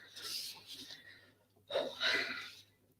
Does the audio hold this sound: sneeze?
yes